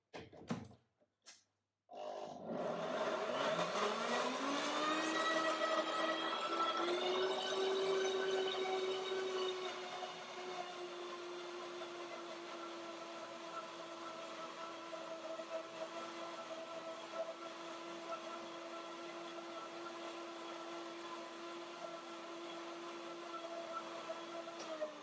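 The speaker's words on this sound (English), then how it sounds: "Blender dance." A blender motor kicks on after a couple of sharp knocks, whirring up to a steady high-pitched hum that continues loudly without pause.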